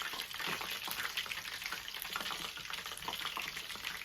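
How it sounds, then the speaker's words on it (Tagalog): A pot of food simmers and boils on a stove, giving a steady, dense bubbling hiss that stays even and close throughout, with no talk. "So, hayaan muna natin siyang kumulo."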